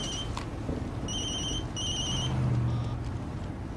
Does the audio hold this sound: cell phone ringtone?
yes